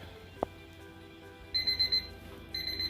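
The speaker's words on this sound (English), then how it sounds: "My timer has went off." Kitchen timer going off during cooking, a click followed by a series of rapid electronic beeping bursts, fairly quiet and close, with no talk.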